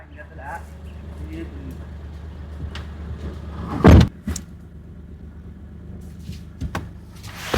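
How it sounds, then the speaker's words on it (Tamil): A 2014 Mahindra car rumbles low and steady as it is driven, with a sharp thump midway and a few lighter knocks, while a person talks nearby. "இது பாருங்க வண்டி ஓட்டி காட்டுறேன் பாருங்க"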